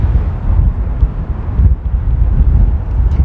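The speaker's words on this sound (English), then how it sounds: "It is so windy out here." Strong wind buffeting the microphone, a loud continuous low roar and rumble that gusts unevenly throughout, with no one speaking.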